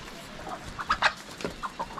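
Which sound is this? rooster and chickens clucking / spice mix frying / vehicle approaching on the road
rooster and chickens clucking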